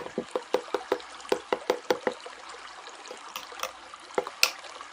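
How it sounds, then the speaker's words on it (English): Spoon stirring an overnight cacao nib mixture, a close series of soft regular knocks and scrapes against the container, then a few scattered taps. "So just kind of give it a little stir."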